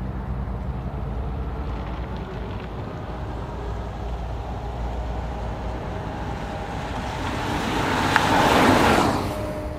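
A 2021 BMW X1 25e plug-in hybrid drives on an ordinary road away from the motorway, giving a steady low rolling and road-noise hum that swells briefly near the end, with no talking.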